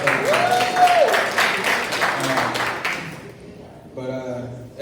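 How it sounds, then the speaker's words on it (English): An audience claps for Nigel Bowe at a commencement ceremony. The applause is strongest early on and fades out, and a voice speaks over the clapping and after it. "I want to give Nigel a round of applause."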